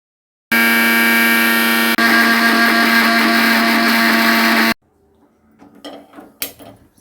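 Kitchen mixer grinding green chillies, mint and coriander for a green chilli sauce: a loud continuous whir in two bursts with a short break, then stopping, followed by faint clattering of the jar.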